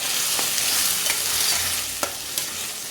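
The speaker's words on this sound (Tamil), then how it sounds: "இப்போ அரைச்சி வச்சுருக்க தக்காளியை சேர்த்துக்கலாம்" Ground tomato paste frying and sizzling in a pan, a steady close hiss with a few soft stirring clicks and taps, no talking.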